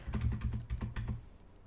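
Quick, light keystrokes clatter on a computer keyboard, around a dozen close taps in an uneven rhythm that trails off into quiet.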